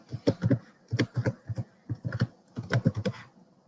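Quick bursts of typing on a computer keyboard while entering a website URL, with clustered close keystroke clicks separated by short pauses, clear and alone.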